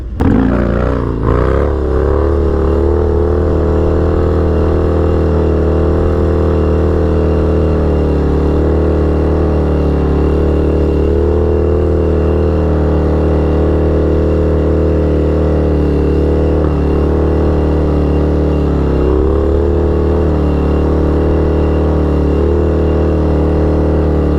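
A Harley-Davidson Dyna FXDX rides a wheelie along an air strip, its V-twin engine droning loud and close in a steady, sustained roar with slight shifts in pitch and no break.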